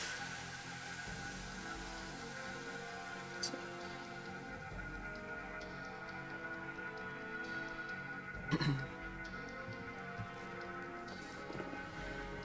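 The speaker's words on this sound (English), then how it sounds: "cough is trying to kill me." A single short, harsh cough from a gamer playing Shadow Generations lands once near the end, over steady game music and background sound.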